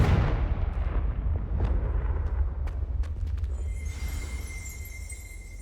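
Confringo spell in Hogwarts Legacy erupts in a heavy booming blast that rumbles and slowly decays, scattered crackles and debris pops trailing off while a faint high tone rings near the end.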